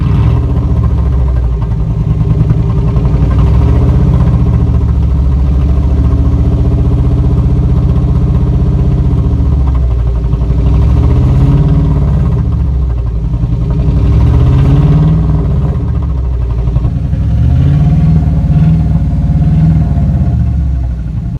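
Engine of a 2003 Dodge Ram 1500 pickup with a head gasket fault, running loud and close with a steady idle broken by several rising and falling revs.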